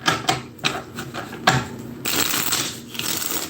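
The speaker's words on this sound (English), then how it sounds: "let's get some good shuffles" Tarot cards are shuffled close by in several quick riffling bursts and soft slaps, followed by a longer continuous rustle, with no talking.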